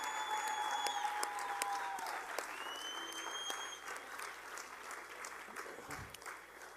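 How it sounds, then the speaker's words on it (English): Applause from a conference audience for panelists on stage, a steady sustained patter filling the room at moderate distance before gradually thinning toward the end. "Can we get one big round of applause for everyone on stage?"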